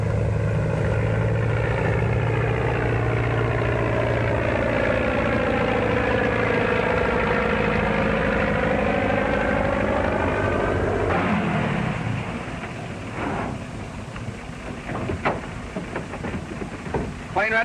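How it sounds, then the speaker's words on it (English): A propeller airplane engine warms up before takeoff, a steady loud droning with rising and falling pitch for about eleven seconds, then the note drops and rough engine rumble continues with brief voices and bumps. "Plane ready, Bill? Yep, warm and ready to go."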